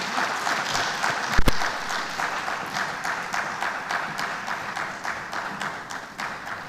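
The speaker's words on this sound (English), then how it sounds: "One more time, a round of applause for that very insightful, thorough presentation." An audience at a tech conference in Africa applauds after a presentation, with steady clapping from many hands, one sharp loud bang early on, and a gradual fade as the clapping thins out.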